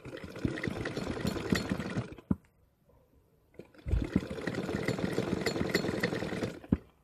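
A sewing machine runs in two bursts of rapid, steady stitching, basting a stitching line along the middle of a 32-inch double katori under part. A short pause of near silence with faint clicks separates the bursts.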